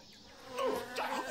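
Bees buzzing around a beehive in the video game Whack Your Computer & Neighbor, a wavering insect drone that swells louder midway and stays close, with no talk.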